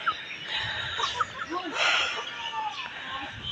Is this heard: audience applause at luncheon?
no